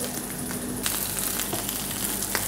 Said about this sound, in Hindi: जी अब इसमें डालेंगे हम ग्रीन अनियन।